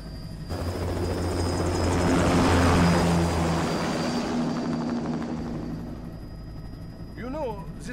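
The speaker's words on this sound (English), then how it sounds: "Commencing takeoff in semi-auto mode." A large aircraft lifts off in the video game Metal Gear Rising with a loud, steady roar of engines and propellers that swells and then slowly fades, and a voice is heard speaking briefly near the end.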